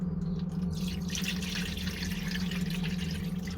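Water runs steadily into a multicooker bowl, a soft continuous pouring and trickling under a low background hum, fairly quiet and close.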